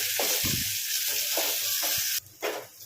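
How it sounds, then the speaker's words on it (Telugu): Bitter gourd pieces go into a hot pan and fry, with a steady loud sizzle broken by a few stirring scrapes, and the sound dips briefly near the end. "ఇప్పుడు ఇందులో కాకరకాయ ముక్కలు వేసుకుందాము."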